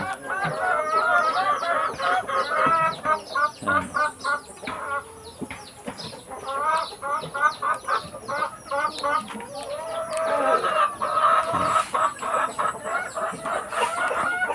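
Many chickens cluck and chatter continuously in a busy, crowded chorus, with occasional louder squawks rising above the steady flock noise.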